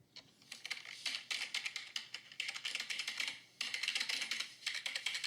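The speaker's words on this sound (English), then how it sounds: "Typing. Typing." Typing on a computer keyboard, close and crisp, in rapid bursts of keystrokes separated by short pauses, with no voices.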